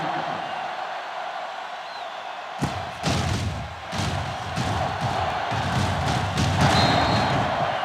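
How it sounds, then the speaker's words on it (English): A kickoff in Madden NFL 10 on PS2, Bears versus Broncos, lands as one sharp, heavy thud. A loud stadium crowd roar swells right after and carries on steadily under it. "Booming kick."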